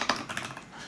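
Computer keyboard typing in a quick short burst of a few sharp clicks at close range, with no talking over it.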